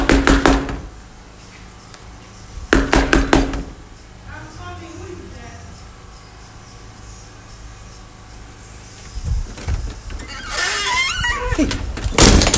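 A door pounded with rapid knocking bursts at the start and again shortly after, loud and close, followed by quieter rustling and muffled shouting voices.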